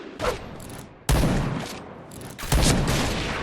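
Three loud, sharp sniper rifle shots, likely the Tactilite T2 Shinobi, fire in the online shooter Point Blank during a sniper-mode match. The shots come at spaced intervals and each one booms and then decays into a lingering tail.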